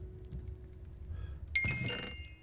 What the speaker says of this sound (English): that was the sound of me completing this quest here